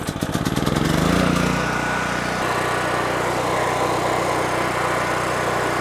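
The small engine of a Harbor Freight Predator inverter generator pulls and sputters into life, then settles into a steady, loud running drone that carries on alone to the end.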